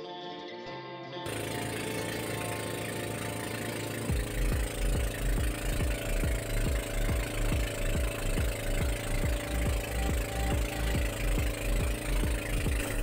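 A motorboat engine chugs steadily on a boat ride to Pamilacan Island in the Philippines, loud and close, with a regular knocking pulse over a broad wash of water and wind noise throughout.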